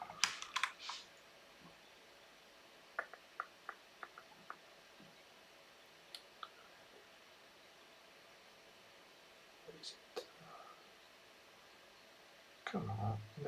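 Sparse keystrokes on a computer keyboard while a command is typed on a Fedora CoreOS system to install packages: quiet, scattered clicks in short clusters separated by long pauses, over faint background hiss.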